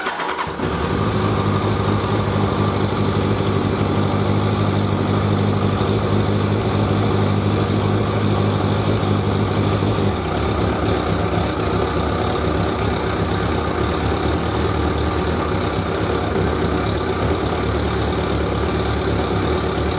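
A BMW R1100GS boxer-twin motorcycle with freshly topped-up carbs cranks and catches quickly, then runs at a loud, steady idle up close with a slight change in tone midway, no voices.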